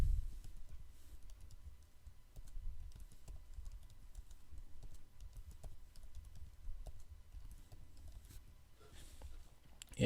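Steady rapid clicking of a computer keyboard as a recovery phrase is typed into a notepad, soft close keystrokes in an uneven patter that continues throughout.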